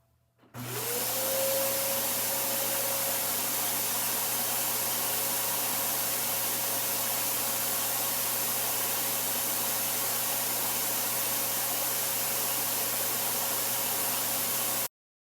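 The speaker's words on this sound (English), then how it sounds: "capture live audio using a cell phone directly from the Auric air vacuum device during normal operation with no clog present" An Auric air vacuum device runs normally with no clog, starting up and then holding a loud, steady whooshing roar with a constant whining tone for about fourteen seconds before cutting off abruptly.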